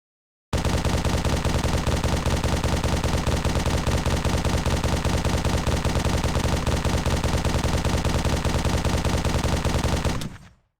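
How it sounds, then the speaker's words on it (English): Rapid, unbroken automatic rifle fire from a video game raid, a battle rifle or assault rifle spraying continuously under a bottomless-clip ultimate with no reload pause, loud and steady for about ten seconds before cutting off. "the DPS's ultimate ability is bottomless clip."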